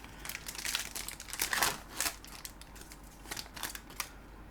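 A 2022 Panini UFC trading card blaster box is torn open by hand, with a rapid series of crisp crinkling, ripping and crackling bursts of cardboard and foil wrapping, close and fairly quiet, with no talk.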